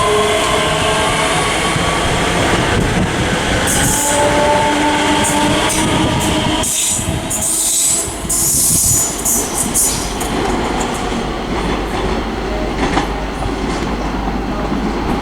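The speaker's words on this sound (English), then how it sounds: "Whilst also departing is 385-104, the 1608 ScotRail service to Springburn." ScotRail class 385 electric unit 385-104 pulling out of Haymarket station in Edinburgh, a steady loud rolling rumble with wheel clatter and occasional high squeal across the whole stretch, no voices.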